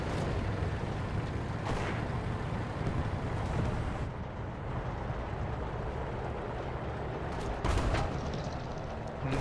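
Tank cannon fire in the War Thunder video game, driving an armored vehicle: a couple of sharp booming shots punch through a constant low engine rumble, heard alone without talk.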